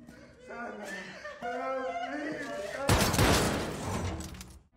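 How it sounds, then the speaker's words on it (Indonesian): Gunfire in an action film scene: a sudden loud, dense burst of shots that cuts in after several seconds of voices and chuckling, then rings on noisily to the end. "Suara tembakan itu pun terdengar oleh Jinman dan Pasin"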